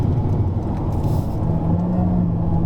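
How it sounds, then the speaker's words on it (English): Honda Civic RS engine on a track drive at Sepang, a steady low rumble heard from inside the car, loud and continuous with no break. "the engine sounds more urgent on this one."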